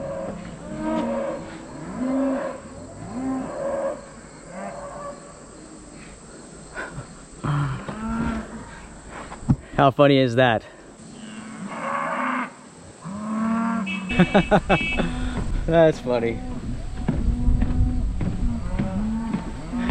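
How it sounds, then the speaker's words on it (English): Cows mooing excitedly while being fed on a farm beside an old railroad hiking route, with several loud, drawn-out moos overlapping close by and a person talking and laughing between them. "The cows are getting fed,"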